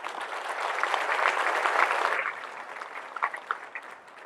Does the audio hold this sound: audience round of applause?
yes